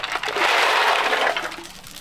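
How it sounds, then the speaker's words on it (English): A bag of small ice cubes is poured into an ice bath, giving a loud, dense rattling and crunching rush that swells, holds for about a second, then tapers off. "we're gonna pour all this ice."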